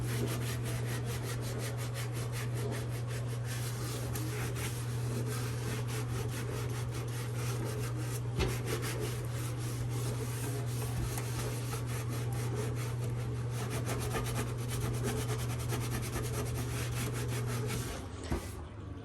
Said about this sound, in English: I'm just taking a scouring pad and scrubbing the built up grease.